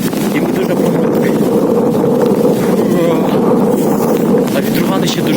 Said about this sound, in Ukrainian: Капець, як холодно, сильний вітер.